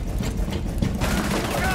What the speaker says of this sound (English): Loading mag!